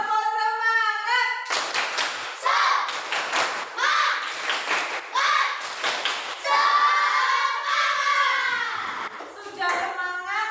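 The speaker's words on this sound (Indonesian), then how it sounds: "Sekali lagi, tepuk semangat." A class of children chants and claps a rhythmic spirit clap together in short bursts in an Indonesian classroom, the claps sharp and close, mixed in with their voices.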